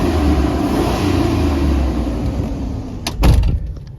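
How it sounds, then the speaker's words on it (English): A 2001 Chevy 2500HD LS 4x4 pickup idles with a steady low engine drone, then near the end its door opens with a brief clunk and the engine note swells slightly, heard up close with no talking. "Now, let me open the door and rev it up because it's quiet."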